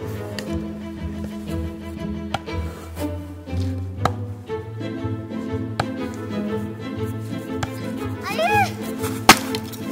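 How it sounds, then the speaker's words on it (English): Children split wooden logs with an axe outdoors in a freezing Yakutian winter, sharp irregular chopping strikes and woody cracks ringing out one after another over background music. "the boys take the logs and chop them down."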